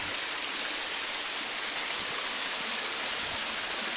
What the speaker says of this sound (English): little cascade coming down into the tunnel here